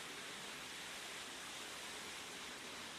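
Waterfall in a forest picnic area, a steady dense broadband roar of falling water heard continuously and evenly without any other sounds.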